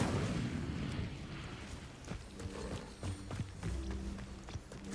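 Incendio fire spell cast in Hogwarts Legacy, a loud rushing burst of flame at the start followed by a run of sharp crackling and thudding impacts, with no voices.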